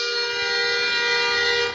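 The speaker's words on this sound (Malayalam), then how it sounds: "എന്തിനാ ഹോൺ അടിക്കുന്നത്?" A single loud, sustained vehicle horn blast, steady and close, lasting almost two seconds before cutting off.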